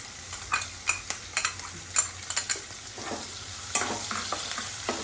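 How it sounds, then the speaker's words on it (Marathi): Onion frying in a pan and stirred with a spoon for Vidarbha-style ukadpendi, soft sizzling broken by a series of close scraping stirs, with no voices. "कांदा घालून थोडा बदामी रंगावर परतायचा येईस तोपर्यंत परतायचा"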